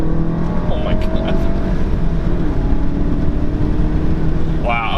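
A 2016 VW Golf GTI with its 2-liter turbo engine pulls hard under acceleration, a loud steady engine drone rising in pitch close by, with a voice briefly talking over it.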